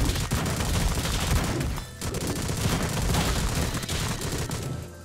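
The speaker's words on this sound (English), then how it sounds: "I think it's a Russian assault rifle." Sustained automatic fire from a Russian assault rifle in the game Madness: Project Nexus, a dense, loud, continuous stream of rapid shots with one brief break partway through, no talking.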